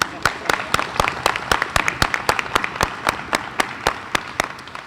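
A modest crowd claps steadily and fairly loudly, the crisp individual claps landing in a quick, irregular patter for several seconds.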